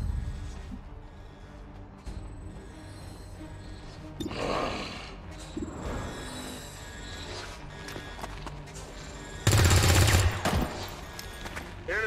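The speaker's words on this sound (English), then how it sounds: "Incoming fire!" Bursts of automatic and single-shot gunfire in a shooter video game, scattered salvos with a loud close burst near the end, heard over quiet game ambience.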